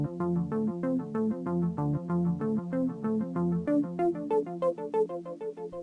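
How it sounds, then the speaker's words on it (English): Mono synth arpeggio fed through a delay, with rapid repeating notes cycling in an even rhythm and echoes trailing each one, played alone in a dark early-2000s game ambient style. "And so the arpeggio, once we put everything in mono and send it through a delay,"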